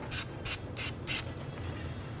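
Four short bursts of anti-seize compound sprayed from an aerosol can hiss in quick succession, close and fairly loud, during a rear brake job on a Cadillac Escalade, followed by a quiet background.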